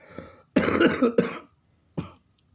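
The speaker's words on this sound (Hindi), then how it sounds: "खांसी मेरे भी उठ गई" A nearby person coughs in a harsh rough burst, followed by a second short cough after a pause.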